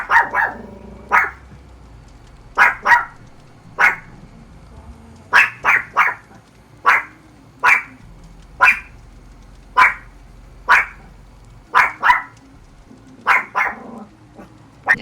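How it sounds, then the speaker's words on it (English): A house dog barks at night indoors, loud and close, firing about fifteen sharp barks in irregular singles and pairs with short silent gaps between them. "Honestly, our dog, she's a barker. She barks a lot."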